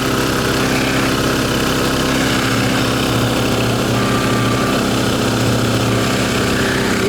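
A small engine runs steadily right beside the microphone, its exhaust giving a loud, dense, unbroken rumble with no change in pace and no voices.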